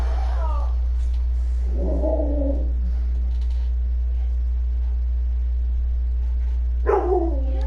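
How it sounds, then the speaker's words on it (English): A dog gives a few sharp barks or whines: one burst at the start, a louder one soon after, and another near the end, all over a steady low electrical hum in a quiet indoor room. "Can you shut that dog up, please?"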